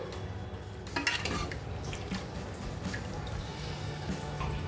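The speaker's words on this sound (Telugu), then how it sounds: "కొత్తిమీర వేసేసుకొని ఒకసారి మిక్స్ చేసుకుందాం" A spoon clinks against a pot while stirring village-style country chicken curry after coriander is added, with scattered scraping taps over a soft, quiet simmer.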